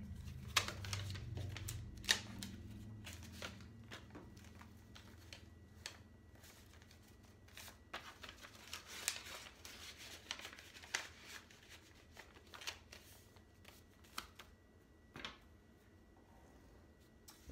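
Paper cash bills are handled and slipped into a budget envelope, giving soft rustling and crinkling with light taps and clicks, close and quiet, with no talk.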